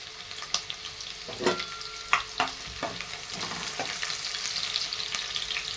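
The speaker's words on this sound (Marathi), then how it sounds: "मिरची पण टाकून घेते चांगली परतली जाते मिरची" Green chilies fry with garlic in a pan, giving a soft, continuous sizzle. A spoon stirs them, and a few sharp clinks and scrapes against the pan stand out in the first half.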